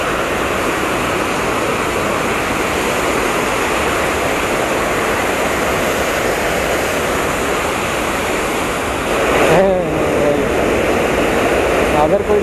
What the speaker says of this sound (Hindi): इधर से पानी निकल रहा है।